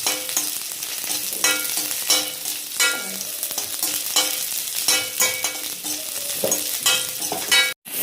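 Onion and garlic cloves sauté in a pan for peanut chutney, with a lively close sizzle and frequent stirring scrapes in uneven bursts. There is a brief drop to silence just before the end.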